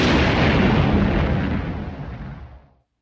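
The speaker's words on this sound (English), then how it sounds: "There would be cannon fire," A Civil War-era cannon fires one loud, deep blast that roars across the full range, then fades away over a couple of seconds into silence.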